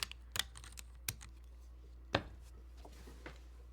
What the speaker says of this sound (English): want to see what a GMK spacebar would sound like